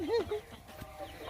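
Native chickens clucking on a rural Philippine farm, a short rising and falling cluck close by at the start, then quieter scattered sounds with a person talking faintly.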